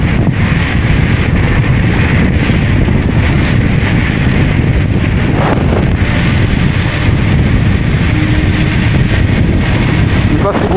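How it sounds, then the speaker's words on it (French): Strong wind buffets the microphone throughout a ride on a Kukirin G2 Master electric scooter, a loud, constant roaring rumble that barely lets up, with little else audible. "Il y a tellement du vent qu'en fait la trottinette est ralentie."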